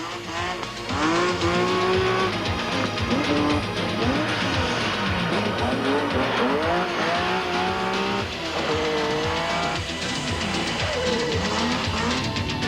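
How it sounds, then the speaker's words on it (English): A Volkswagen Passat Synchro rally car slides at high speed through a tight final stage, loud and close, its engine revving with rising and falling pitch sweeps and tire squeal running continuously throughout. "sliding the Passat Synchro at breakneck speed"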